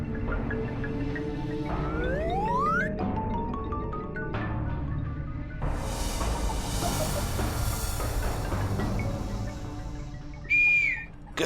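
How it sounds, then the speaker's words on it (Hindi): A person whistles in a street scene from a Hindi comedy, with rising sliding tones, sustained notes and a final sharp high blast, amid background music and noise. "किसने सीटी मारी?"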